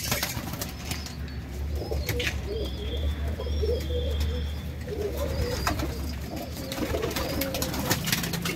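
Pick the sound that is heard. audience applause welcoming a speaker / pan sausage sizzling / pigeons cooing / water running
pigeons cooing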